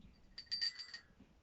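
A small Victorian lady-figure handbell whose feet act as the clapper rings in a short burst of bright, tinkling strikes lasting about half a second, close and clear in a quiet room.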